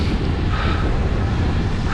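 Strong wind on a cold mountain descent in Tunisia, a loud, steady roar buffeting the microphone throughout.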